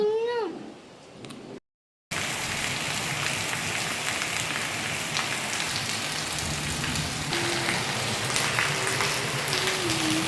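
Heavy rain pours steadily on a surface after a brief silence, with a cat meowing faintly at the start and later.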